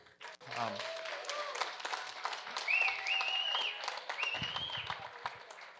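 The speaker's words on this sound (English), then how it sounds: "So I would like to give a round of applause to them." Wedding guests give a warm round of applause during the reception speeches, sustained clapping across the room, with brief whoops and voices rising over it.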